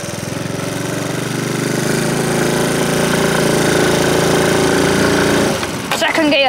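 A Honda C90 motorcycle towing a small trailer runs in first gear at a busy racing circuit, its engine a loud, steady, rattling drone close up that cuts off near the end, with a brief voice.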